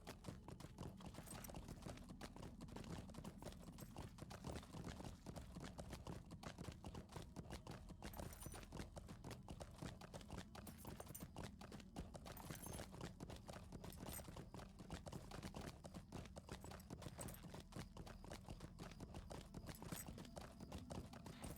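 Horse hooves clip-clop steadily in the online game Lord of the Rings Online, a faint, even galloping rhythm over a constant low rumble throughout.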